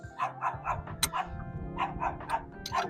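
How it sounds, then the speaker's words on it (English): Several dogs bark repeatedly in short, loud bursts, close by, over a low steady hum, during work on a Hyundai Genesis Coupe getting an LS engine swap with LS6 heads. "The dogs are going crazy."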